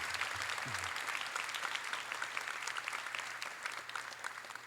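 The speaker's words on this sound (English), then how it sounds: "A round of applause for our newest members of the Maroon and Gold Society." A crowd applauds steadily for new members inducted into the Maroon and Gold Society at a school class night ceremony, a dense, sustained wash of clapping filling the hall from start to finish.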